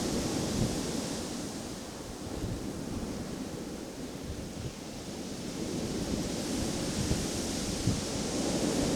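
Steady wind and breaking surf on the shingle shore of Chesil Beach, a continuous roar of waves with gusty buffeting noise across the microphone, loud and unbroken throughout with no voices.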